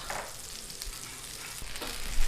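Thick tomahawk ribeye steak searing in a hot pan with butter and salt, a steady loud sizzle and crackle running throughout with occasional spatters, no voices.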